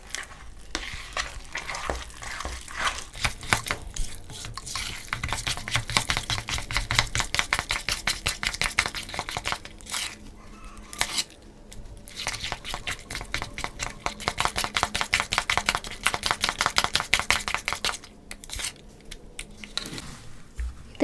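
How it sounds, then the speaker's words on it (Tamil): Homemade mehndi paste mixed with lavender oil in a bowl, a spoon scraping and stirring in rapid, continuous wet strokes, close and steady, with brief pauses around the middle and near the end and no talking. "இதையும் சேர்த்து நல்லா மிக்ஸ் பண்ணி விடணும்"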